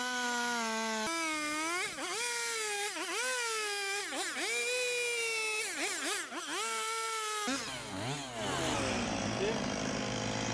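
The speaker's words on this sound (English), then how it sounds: "able to blend a chainsaw with a chunk of wood and wind up with a tourist treat" A chainsaw carving a chunk of wood into a bear sculpture, its engine whining and shifting pitch as the blade bites and lifts, steady and fairly close throughout.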